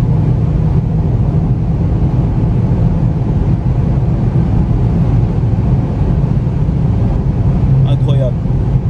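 A Golf VII GTI Performance pulls hard at full throttle down a short straight, heard from inside as a steady, loud, low engine and road roar that fills the whole stretch without a break.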